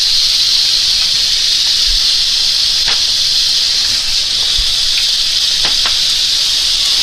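Pork loin chops sizzling loudly in a hot pan over medium heat, a steady bright hiss with occasional small pops and crackles.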